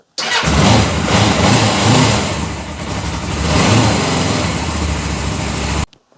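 A motorbike engine cranks on full choke and catches, then runs at a loud, rough, uneven idle for several seconds before cutting off abruptly.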